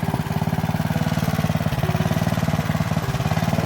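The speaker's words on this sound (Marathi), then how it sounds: "इथे हा ट्रॅक्टर आहे छोटा" A small tractor used for digging village farmland before planting runs with a steady, loud, rapid thumping beat that holds close and even throughout, with no voices over it.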